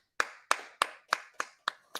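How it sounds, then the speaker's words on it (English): Seven sharp hand claps ring out in a steady rhythm, each crisp and close, to applaud a podcast guest named Greg. No one talks over them. "Round of applause for Greg"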